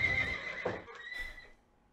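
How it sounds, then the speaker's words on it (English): A horse sound effect gives a loud whinny with galloping hoofbeats, fading out toward the end. "After transforming into a glorious stallion, Vaush Gish gallops in a straight line"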